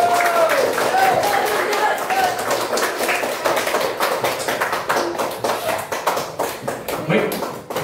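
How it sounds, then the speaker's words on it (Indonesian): An audience of school students at a financial literacy event applauding, a steady patter of many hands clapping that fades toward the end, with a voice briefly heard in the background. "Beri tepuk tangan dulu untuk Pak Zulisan."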